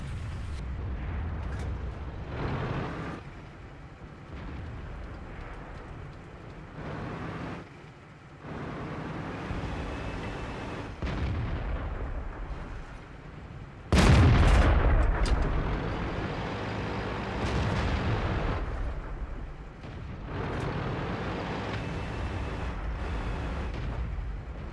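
Gunfire in a competitive shooter video game, with repeated bursts and a loud blast near the middle, heard through ongoing game noise with no talking.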